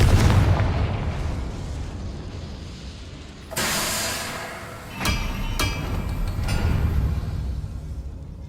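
Confringo fire spell explosions in the Hogwarts Legacy video game, heard as loud booming bursts over a dense rumbling backdrop, with sharp blasts near the middle and a sustained roar throughout.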